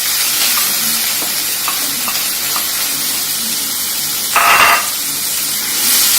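Garlic sizzles steadily in hot oil in a pan for an aloo curry, a continuous broadband frying hiss with a brief louder spurt of sizzle partway through and no talking.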